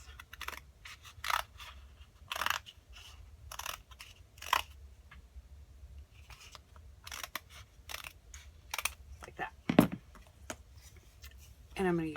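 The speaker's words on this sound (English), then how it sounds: "I'm going to cut it in half" Scissors cutting a strip of floral-section craft material, heard as several short crisp snips spread across the stretch, quiet and close, between pauses.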